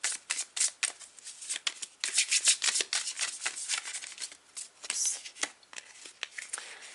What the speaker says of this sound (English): I'm going to shuffle 2 oracle cards